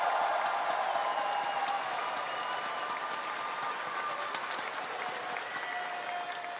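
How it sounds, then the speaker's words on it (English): An arena crowd in Vancouver applauds the champions after the MSI 2025 esports grand final, a dense, sustained roar of clapping heard from within the venue. "Vancouver, please a round of applause one last time for your champions."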